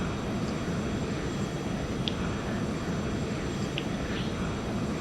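Simulated Challenger 300 business jet departing in X-Plane 11, a steady, dense engine roar and rumble that holds at an even level throughout with a few faint high blips over it and no talking.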